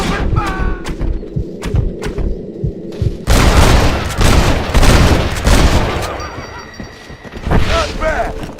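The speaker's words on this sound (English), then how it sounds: "Open fire!" Heavy gunfire erupts in a Red Dead Redemption shootout on Xbox, a dense loud barrage of overlapping shots and booms lasting several seconds after a spoken command, with a voice cutting in near the end.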